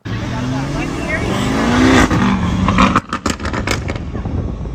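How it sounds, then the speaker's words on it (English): A loud Lamborghini engine revs and rumbles steadily, then breaks into a rapid series of sharp exhaust pops and crackles as it lets off. "the Lamborghini gurgles and pops"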